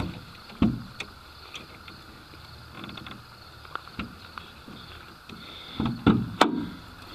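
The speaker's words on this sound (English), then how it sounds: "the hood goes up smooth, not really any issues" Hood of a 1977 Mercedes 300D non-turbo diesel swinging open: a few soft creaks and thumps of metal hinges, with louder clunks near the end, up close over quiet background.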